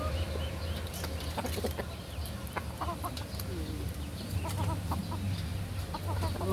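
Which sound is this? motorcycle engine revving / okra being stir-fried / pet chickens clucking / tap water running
pet chickens clucking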